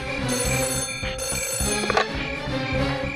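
A telephone rings with a shrill electronic trill, repeating in short bursts close by in a quiet room, with faint rustling in the background.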